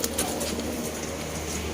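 Sialkoti pigeons cooing at a pigeon seller's place in Sialkot, a low, soft, steady murmur of coos that runs through the whole short stretch with no talking.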